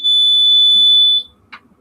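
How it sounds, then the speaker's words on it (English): A Morley IAS fire alarm panel buzzer gives one loud, close, steady high-pitched tone lasting just over a second, then stops sharply, followed by a brief faint click. "There's two buzzers on it then."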